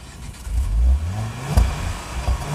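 A matte black Ford Focus RS500 with 350 hp, front-wheel drive and a new intercooler, intake and exhaust revs hard while racing a Subaru Impreza WRX STI. The engine roar swells and dips loudly and close, with no talk over it.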